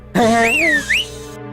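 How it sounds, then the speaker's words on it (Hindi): A person whistling a short rising and falling tune, loud and close, from a scene in a South Indian action film dubbed into Hindi, heard over background music. "तू क्या हर बात पे सीटी बजाते रहता है?"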